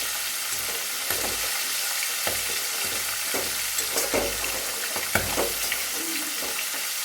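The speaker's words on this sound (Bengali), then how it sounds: "ভালো করে মাছটা ভাজা হোক একটু।" Fish frying in a pan gives a constant close sizzle, with intermittent scraping and stirring strokes and occasional utensil knocks scattered across it.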